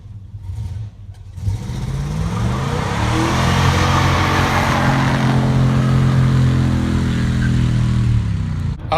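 A green Plymouth Cuda's engine revs up loud and close, climbing from an idle into a sustained, rising roar that holds steady before easing off near the end, with no voices.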